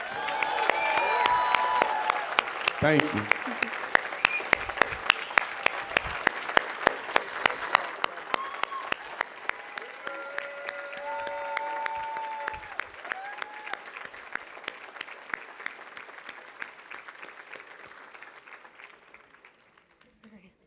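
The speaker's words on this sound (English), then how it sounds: "Let's give Sao Paulo another round of applause." Summit audience at a mentoring conference plenary applauds in a long, steady round of clapping with a few cheers, gradually thinning and fading toward the end while a presenter speaks briefly over it.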